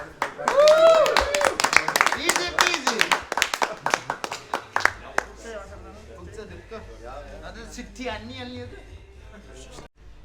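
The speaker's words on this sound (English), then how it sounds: "So clap for us." A quick run of close hand claps at a cooking class in Nepal, several people clapping irregularly for a few seconds, followed by talking and laughter.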